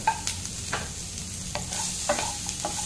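Garlic, green chili, onion, capsicum and carrot sautéing over high flame in a pan, a steady low sizzle with periodic spatula scrapes and taps, close and fairly quiet, no talking.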